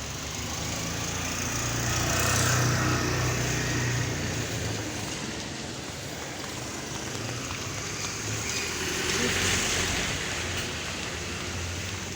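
Typhoon wind and heavy rain rush in a steady broadband roar. Gusts swell and fade twice, with the downpour hissing throughout.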